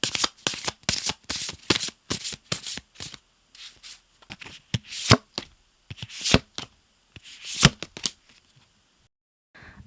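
Tarot cards are shuffled and drawn by hand close up: bursts of crisp riffling and slapping come in uneven clusters with short pauses between them, fading to quiet at the end, with no speech.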